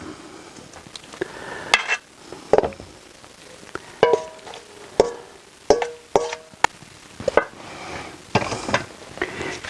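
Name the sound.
lamb added to a pot and stirred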